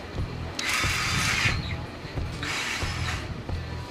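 Battery-powered drill with a keyless chuck, two bursts of high whirring motor spin, each about a second long, separated by a quieter pause with background hum.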